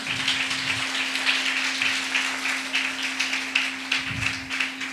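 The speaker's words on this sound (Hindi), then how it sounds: "जोर से तालियां बजाए" A church congregation claps together in a steady, dense patter that runs through the whole stretch at moderate loudness, with a constant low hum beneath and a few soft low thumps.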